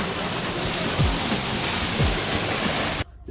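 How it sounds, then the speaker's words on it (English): La Chorrera waterfall near Bogota, heard up close as a loud, continuous roar of falling water with a few dull knocks, cutting off abruptly just before the end. "We finished up that El Chorrera waterfall."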